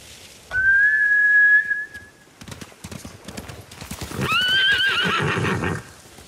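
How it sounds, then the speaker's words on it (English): Samurai horses in the Ghost of Tsushima video game whinny in two loud, drawn-out neighs with a whistling ring, separated by a stretch of busy hoof and ambient noise. "Bastards scared off the horses. They're samurai mounts, trained to return to their masters."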